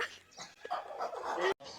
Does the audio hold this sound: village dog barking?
yes